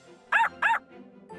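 Cartoon puppy barks twice in quick succession, short bright yaps close up, followed by a softer whimper-like sound.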